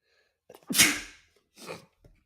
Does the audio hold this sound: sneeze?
yes